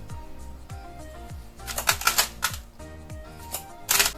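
Steel hairdressing scissors snip through small strands of hair during a home self-haircut, a series of quick, close, crisp cuts in an irregular rhythm, a few louder bursts near the middle and end, no talking.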